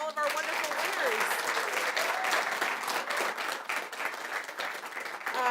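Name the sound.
audience applause for award winners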